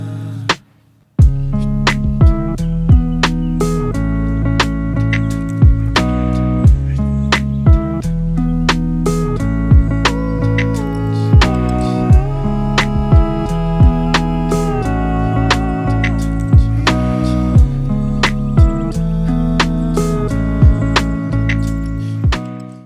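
A mellow, lo-fi guitar beat with steady thumping drums and sharp percussive clicks, looping continuously throughout at a steady tempo.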